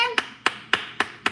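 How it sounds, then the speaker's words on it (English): Five hands clap at an even, unhurried pace, each a crisp, close smack with a brief decay, and no voice between them. "Because you clapping for them is you clapping for yourself."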